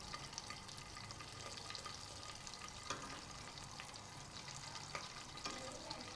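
Butter sizzles and crackles steadily in a frying pan as breakfast sandwich prep begins, a soft continuous hiss with faint scraping and stirring, no voices.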